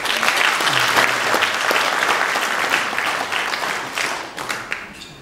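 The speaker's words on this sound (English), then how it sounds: "let's give them an applause" Business forum audience applauding, a loud sustained wave of clapping that gradually thins and tapers off toward the end.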